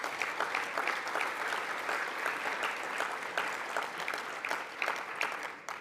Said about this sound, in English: So can we give Sherelle a round of applause, please?